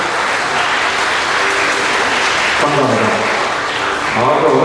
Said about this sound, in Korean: 아주 열정적인 박수 감사합니다